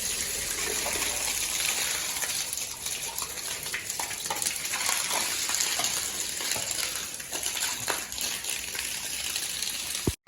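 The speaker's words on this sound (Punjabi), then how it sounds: "ਮੈਂ ਵੇੜਾ ਧੋ ਲਈਏ" Water sloshes and splashes across a courtyard floor as it is washed, a continuous gushing wash with scattered splatters and scrubbing ticks, no one speaking.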